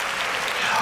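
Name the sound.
townspeople applauding sound effect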